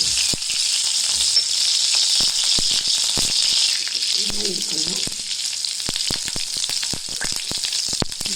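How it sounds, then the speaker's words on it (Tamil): Butter and ghee sizzling loudly in a pan for Kashmiri pulao, a steady close hiss with scattered crackles and pops running throughout. "வெண்ணெய் போட்டு நெய் கொஞ்சம் ஊற்றி"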